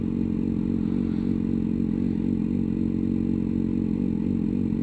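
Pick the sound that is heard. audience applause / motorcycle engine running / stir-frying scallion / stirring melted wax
motorcycle engine running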